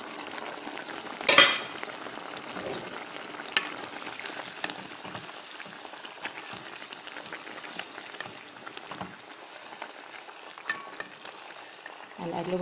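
Fish and sliced bell peppers frying in a pan, a soft continuous sizzle with occasional clinks and scrapes of a utensil stirring, one sharp metallic knock early on.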